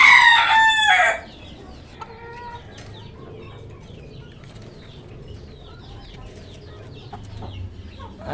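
A rooster crows loudly and close for about a second, then a backyard flock of young chickens clucks softly and intermittently in the background.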